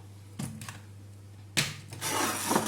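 A knife cuts through a hard food item in a few short, scraping strokes, with a pause and then a louder burst of cutting near the end, close by and without talk.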